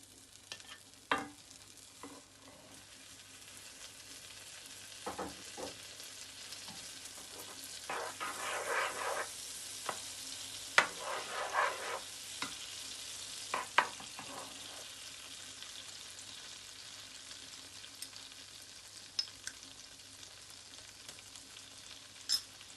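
Garlic sautés in butter in a pan, a faint low sizzle under scattered stirring clicks and scrapes, with a louder patch of spattering midway and no voices.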